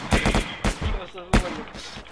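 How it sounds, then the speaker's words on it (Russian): Shooter video game gunfire: three or four sharp, close shots fired in quick bursts, each loud and abrupt, with a voice talking between them. "Ебать, я с закрытыми глазами стрелял."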